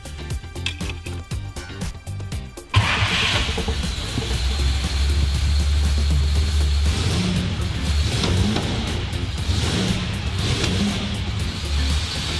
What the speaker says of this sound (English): start it up so you can see how incredible she sounds